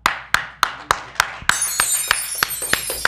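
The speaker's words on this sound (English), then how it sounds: "Please clap." A small studio audience on a talk show claps on request, sharp hand claps landing in a steady rhythm that thickens into fuller, noisier applause partway through, with no talking.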